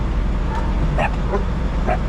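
Small dog yipping and barking in a few short, separate bursts at middle distance, heard inside a truck cab over a steady low engine rumble, with no talk.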